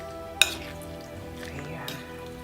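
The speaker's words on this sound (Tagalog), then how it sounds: "Haluin natin mabuti ha. Para kumapit yung ating mga sangkap." Sliced pork and bell peppers being stirred in a pan, with a sharp utensil clink against the pan, a faint sizzle and scraping stirs, close and fairly quiet.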